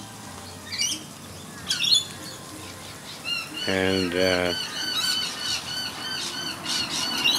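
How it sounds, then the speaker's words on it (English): A currawong, a crow-like rainforest bird at a bird sanctuary, gives a loud burst of harsh, rapid squawks at close range. Shorter calls and chirps from other birds come before and after it, over a steady outdoor ambience. "it's a rainforest bird called a currawong"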